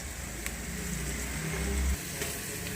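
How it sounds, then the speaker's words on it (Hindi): Onions browning in hot oil for potato and pea curry give a steady, low sizzling hiss that holds close and even throughout, with a slightly louder, denser patch near the end and no voices. "प्याज हमारे हो रहे हैं ब्राउन और हम इसे 1 से 2 मिनट तक भूनते हैं।"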